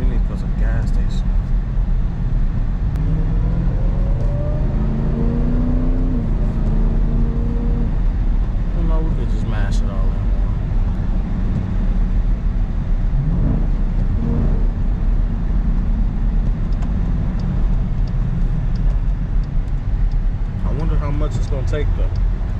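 A Jeep Grand Cherokee Trackhawk cruising on the road, a steady low engine and road rumble heard from inside the cabin under ongoing conversation.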